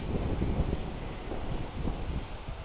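Steady buffeting strong, gusty wind roars across the microphone, a continuous rough rumble with no voices.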